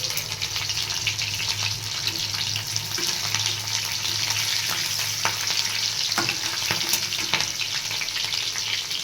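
Slit green chillies frying in hot oil with panch phoron (Bengali five-spice): a steady, close sizzle and crackle with occasional stirring clicks, continuous and alone.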